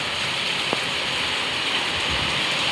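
Heavy rain pours while water rushes down outdoor steps, a dense, steady roar of falling and flowing water that stays loud and unbroken throughout.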